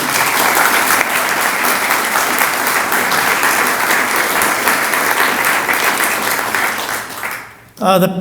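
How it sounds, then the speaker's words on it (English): Sustained applause from a crowd, dense and steady, fading out near the end as a voice begins speaking. "an accomplishment worthy of a round of applause for Miriam."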